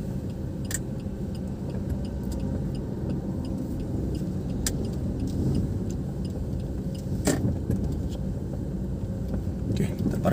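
A car drives slowly and pulls into an empty stadium car park, giving a steady, moderately loud road and engine rumble throughout with a few faint clicks on top.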